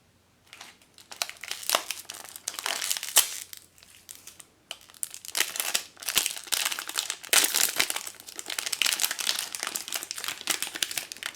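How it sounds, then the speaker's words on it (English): A Pucky Forest Fairies blind package wrapper is torn open and handled up close, with loud bursts of crinkling and crackling plastic in irregular clusters and brief pauses, no voices. "pull out our little package and we will get Mushroom Fairy"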